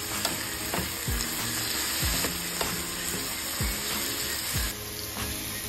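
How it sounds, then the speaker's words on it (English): Mushrooms fry with garlic paste in a pan, a soft steady sizzle under repeated dull scraping strokes of stirring, with no voices. "let's go back to cooking our mushrooms. Add 1 teaspoon of garlic paste"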